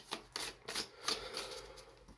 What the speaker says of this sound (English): All right, a couple more shuffles and then we'll be good to go,